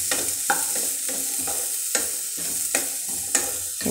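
Potatoes sizzle and crackle in a hot pan while a utensil stirs and scrapes at irregular intervals, close up with no talking.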